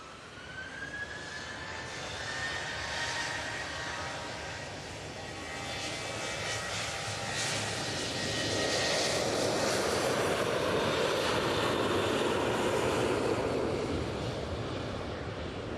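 A jet airliner at Manchester Airport roars steadily through the whole stretch, its engine whine swelling louder toward the end as it passes or takes off, with no voices.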